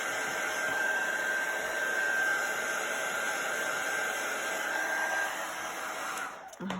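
A handheld craft heat tool blows steadily to dry ink on vellum, a continuous loud fan-like whoosh lasting several seconds before cutting off near the end, with no talk.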